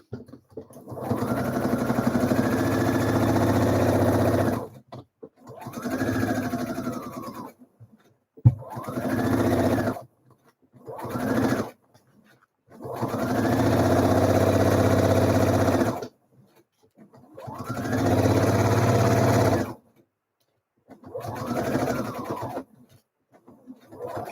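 A sewing machine top stitches a Frida blouse in several loud, close bursts of steady whirring, each run stopping abruptly before the next begins, with no talking.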